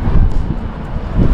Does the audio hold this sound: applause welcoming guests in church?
no